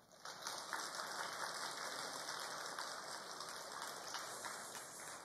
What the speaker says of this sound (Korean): 좌우로 위대한 한 주간을 살아내신 성도님들께 축하와 격려의 박수를 드리겠습니다.